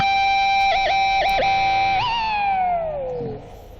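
A bright sustained electric guitar natural harmonic rings out, wobbled rhythmically several times by a whammy bar, then dives downward in pitch and fades.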